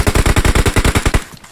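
Automatic gunfire in the video game PUBG Mobile: a loud, close burst of about twelve evenly spaced shots fired in quick rhythm, ending abruptly and leaving a short fading tail.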